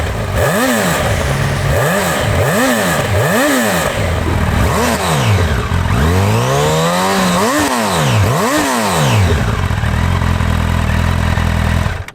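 A 2025 Honda CB1000 Hornet's engine is revved repeatedly, several quick blips rising and falling in pitch followed by a longer sweep up and back down before settling to idle, loud and close.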